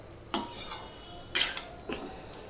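Fish head and pumpkin greens with turmeric stirred in a pan, heard as three brief scraping clatters of a spoon against metal over a faint sizzle.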